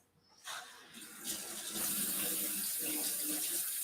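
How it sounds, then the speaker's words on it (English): Kitchen tap water runs while a spoon is washed. The stream starts softly, then builds to a steady, hissing flow that lasts several seconds, close by and with no talk over it. "Now I have to wash the spoon again."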